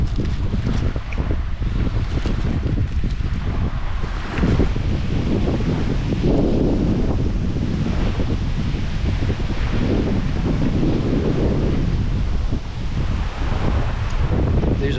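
Strong wind buffets the microphone outdoors at a lunch spot, a steady loud roar with gusty swells and rustling throughout the whole stretch, no other sounds standing out.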